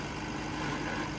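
A 655 CRDI tractor runs in a field, driving a new 10-foot rotavator, giving off a steady, dense, unbroken engine drone at even loudness for the whole stretch.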